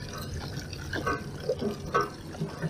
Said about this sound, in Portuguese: Vou beber água da manivela.